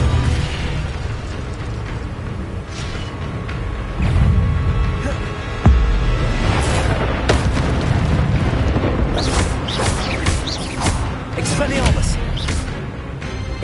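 Incendio fire spell cast in Hogwarts Legacy, a whooshing fiery burst over busy combat effects, with several sharp crackling hits later on.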